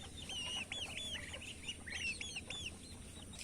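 Young chickens kept at a home peep and cluck in a quick run of high, rising chirps. The calls come from close by over a faint, steady background.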